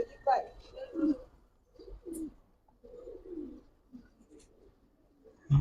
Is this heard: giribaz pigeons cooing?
yes